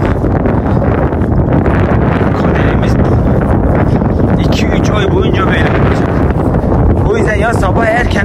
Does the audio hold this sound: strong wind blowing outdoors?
yes